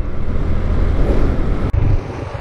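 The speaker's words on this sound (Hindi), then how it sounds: "यहाँ पे हवा चलने लगी है बहुत तेज।" Strong wind buffets the microphone on a mountain road, a loud, rough, low roar that gusts continuously and cuts out briefly near the end.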